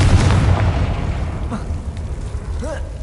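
A Confringo blasting spell bursts in Hogwarts Legacy, a loud booming explosion up front that rumbles and fades over a few seconds, with faint game sounds trailing after.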